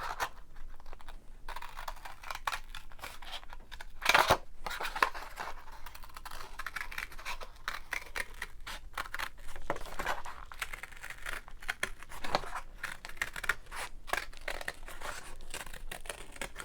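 Scissors roughly cut a piece of card at a craft table, giving a long run of quiet, close snips and crinkly rustles with scattered sharper cuts, and no talk.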